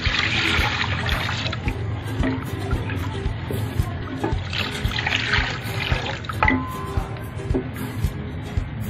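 About two litres of water poured into a pot of kadhi pakora curry mixed with yogurt, a continuous trickling, splashing pour with small liquid gurgles and a few soft knocks, close and steady.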